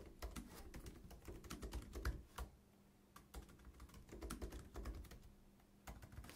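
A password being typed on a Mac keyboard: quick, quiet, close key clicks in uneven bursts with brief pauses, and no talking.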